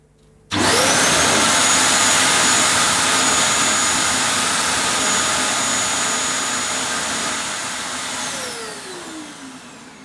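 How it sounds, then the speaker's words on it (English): A Vax VX3 upright vacuum cleaner starts abruptly and runs on carpet with a loud steady whine and roar. The pitch sags slightly and the sound eases a little toward the end. "Let's give it a go on the carpet."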